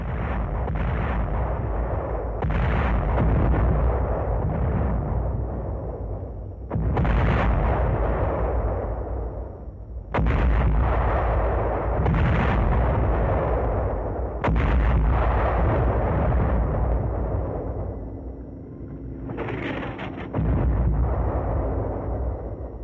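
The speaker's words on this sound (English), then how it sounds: "Shells lined up, prepared for the 5-inch gun." A destroyer's 5-inch naval gun firing shells during a WWII Pacific action: loud, close booming shots in a steady series of about seven blasts spaced several seconds apart, each followed by a long rumbling decay, with no voices.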